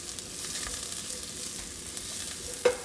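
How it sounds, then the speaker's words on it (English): Mushrooms and onions sauteing in a pan for vegetable fried rice, giving a soft, steady sizzle close by with a faint clink near the end and no talking. "we're gonna get them nice and sauteed"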